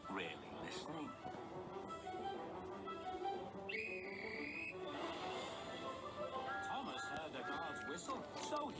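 A cartoon steam engine whistle from Thomas & Friends, a single bright sustained toot of about a second, set against busy background music and voices.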